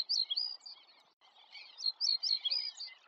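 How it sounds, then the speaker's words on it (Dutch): Small reed birds such as reed buntings, sedge warblers and bluethroats sing among the reeds, giving bright, rapid chirps and trills in two bursts with a short gap between them. The sound carries at moderate distance over a quiet background. "Tussen het riet ook veel kleine vogels, zoals onder andere de rietgors,"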